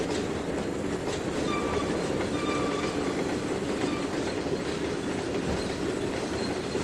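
A train rolls along the track in the rail simulator Trainz 2019 with a steady, loud rumble of wheels on rails. Faint clicks and light squeals sit over the continuous noise.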